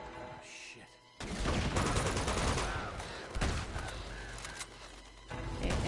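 Dense bursts of automatic gunfire ring out in the video game Uncharted 2, surging loudly in waves over a few seconds, with a brief voice near the start.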